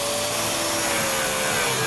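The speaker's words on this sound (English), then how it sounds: "we need to grind the aluminum part of it." A grinder works on an aluminum part during an LS engine swap into a boat, giving a loud, steady, high whining roar that holds without a break.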